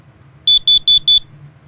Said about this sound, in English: This is a carbon monoxide alarm.